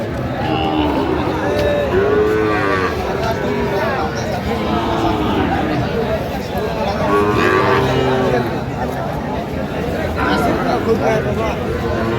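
A Sahiwal bull calf moos repeatedly amid a loud, busy crowd, several drawn-out lowing calls rising over constant chatter.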